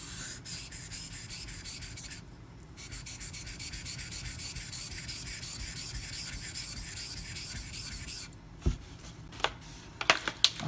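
Ganzo FH51 folding knife blade stroked across a sharpening stone on a Razor Edge System angle guide, a steady close rasping scrape for several seconds, then a few sharp taps and clicks.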